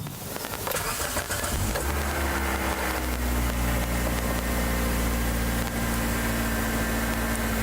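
A car engine cranks and catches after an oil change, then settles into a steady, loud idle with a constant low hum and no voices.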